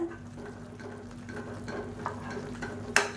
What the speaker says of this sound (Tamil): இப்போ இது வந்து நல்லா கிளறி விட்டுக்கலாம்